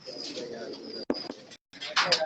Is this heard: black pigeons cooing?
yes